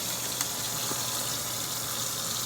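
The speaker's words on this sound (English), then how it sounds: "add the water" Water pours into a pot holding eggs and ice, a steady rushing gush with a faint clink, continuous and close with no talking.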